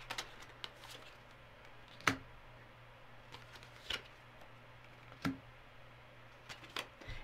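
Tarot cards being shuffled and pulled, a few quiet, sparse papery snaps and flicks spaced across a hushed room with a low steady hum.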